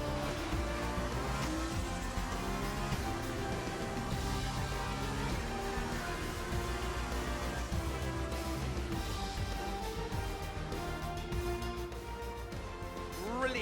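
A Formula 1 race car drives in the F1 2020 video game, its high-revving engine producing a continuous, loud whine with shifting pitch throughout, steady and close with no clear voices over it.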